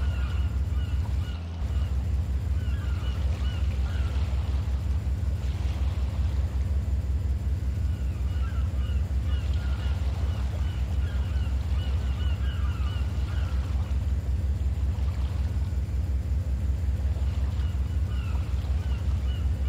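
A fishing boat's engine drones steadily as it motors slowly into a dock in the game Deadliest Catch: Alaskan Storm, a continuous loud low rumble with faint water wash and no talking.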